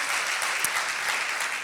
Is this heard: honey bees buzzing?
no